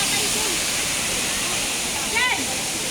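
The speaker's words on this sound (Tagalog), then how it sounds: "Waterfalls." The waterfall at Hinulugang Taktak roars as a steady broadband rush of falling water, loud and constant, with faint voices in the background.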